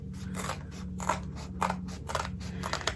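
Scissors snip through bulky fabric near the stitch lines of a machine-embroidered zipper bag, making a quick series of close, crunchy cuts at an even pace.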